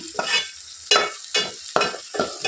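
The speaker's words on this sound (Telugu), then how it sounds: "సో నేను ఇక్కడ ఫ్లేమ్ని హై ఫ్లేమ్లోనే పెట్టి ఫ్రై చేసుకుంటున్నాను" Fenugreek leaves fry in oil over a high flame, with a steady sizzle broken by about four rhythmic stirring scrapes in the pan, close and fairly loud.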